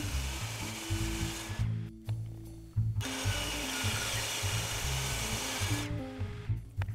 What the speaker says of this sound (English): At the table saw, I cut the slices with smaller thicknesses than the width of the slots.